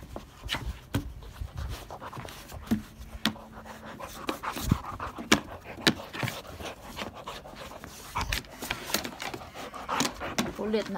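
Pet dog panting and snuffling at close range through the whole stretch, with small thumps and handling noises and a human voice speaking over it now and then.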